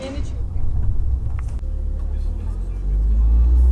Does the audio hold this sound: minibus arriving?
yes